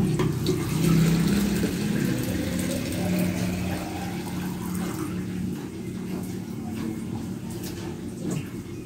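Tap water runs into a drinking glass in a continuous, close rushing stream that keeps going steadily throughout, with faint background noise behind it.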